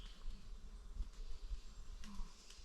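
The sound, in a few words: wasps and bees buzzing in the trees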